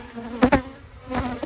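Honey bees buzz around beehive nucs being moved, with a steady close drone and a few louder passes as individual bees fly by.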